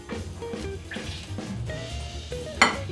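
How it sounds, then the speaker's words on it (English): Brownie batter made with almond flour being whisked in a bowl: quick, close, rhythmic scraping strokes with a bright metallic clink near the end, and no talk. "You're gonna whisk it up."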